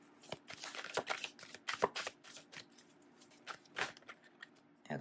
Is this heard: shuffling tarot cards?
yes